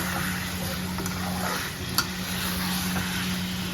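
Chicken frying on high flame with onions and ginger-garlic paste for a curry-leaf chicken fry, a steady close sizzle with faint stirring and one brief clink, alone without talk.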